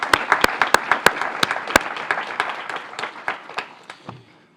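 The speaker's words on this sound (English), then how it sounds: "can we just give a round of applause to the communications team for that really wonderful video?" A roomful of people at a schools press event claps, with sharp, close individual claps standing out at first before the applause thins and dies away within a few seconds.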